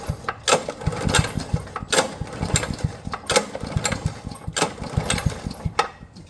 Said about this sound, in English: Now I'm going to pull start the engine just to put some back pressure on the sump